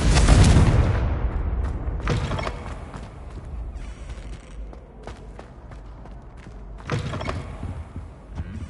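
A Confringo blasting spell bursts with a loud, close explosion in Hogwarts Legacy, its boom decaying into rumbling debris, followed by a few faint clicks and a second, softer blast near the end.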